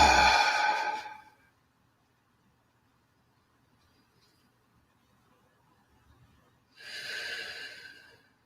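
Two deep breaths taken during a guided moment of calm before prayer, a loud breathy exhale at the start, then several seconds of near silence, then another audible breath.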